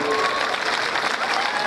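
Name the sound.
audience applause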